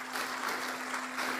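Dense, steady applause from a crowd at a university doctoral examination, honoring the promoter, with a faint constant hum beneath the clapping.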